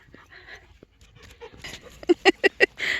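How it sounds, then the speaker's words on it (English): A puppy pants in quick bursts at close range, with four or five loud rhythmic breaths closing out the clip after quieter shuffling and faint sounds. "Oh, there's one of the puppies."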